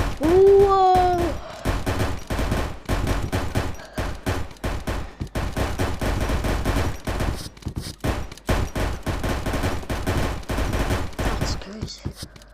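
Rapid bursts of minigun fire in the VR game Animal Company, dense repeated gunshots crackling for several seconds with brief pauses, loud and close, with player voices heard under and between the shots.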